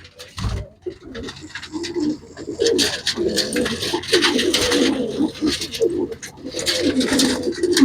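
Pigeons coo repeatedly and close by, a steady run of soft throaty calls that persists throughout, with a brief knock near the start.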